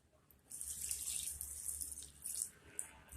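Water splashes into a pot of prawn mango curry, a soft continuous pour with a few brief gurgles, heard close and fairly quiet.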